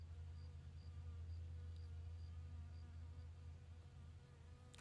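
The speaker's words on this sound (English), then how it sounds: "hi, little bee." A bee buzzes nearby with a steady low droning hum that holds for several seconds, faint overall, with no talk.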